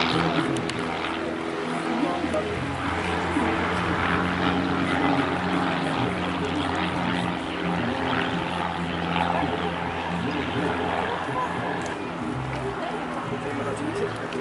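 Propeller aircraft of the Twister Duo pairs team perform a formation display at an air festival, a steady continuous engine drone throughout with a commentator talking over it.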